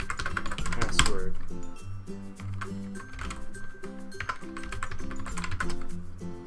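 Fingers typing a password on a computer keyboard, a rapid close run of clicking keystrokes, with a voice talking over part of it.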